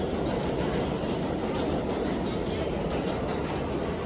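A New York City subway train rumbles loudly and steadily, with a dense roar of wheels on track and faint squealing high above.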